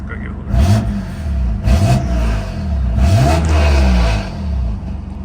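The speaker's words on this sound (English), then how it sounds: "you can totally hear the turbo, which is really nice" A BMW F80 M3 engine revved several times in quick succession, each rise in pitch and fall back close and loud, with turbo whoosh layered over the revs and a person talking in between.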